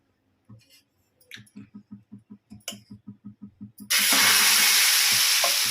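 Eggless omelette batter poured onto a hot dosa pan after a run of rhythmic tapping or stirring clicks, bursting into a loud, steady, close sizzle that fills the remainder.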